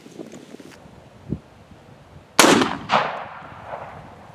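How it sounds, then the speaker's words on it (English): A .300 rifle fires a single shot at hay bales outdoors. The sharp, loud crack is followed by a rolling echo that fades out after a few seconds. "Yeah, it's shooting straight on, just not where I'm aiming."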